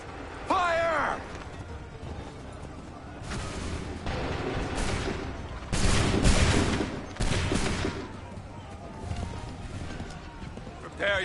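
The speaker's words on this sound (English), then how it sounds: "Open fire." A musket volley in Assassin's Creed 3, ragged bursts of gunfire loud in the middle stretch, with hoofbeats, shouted orders and voices in the background.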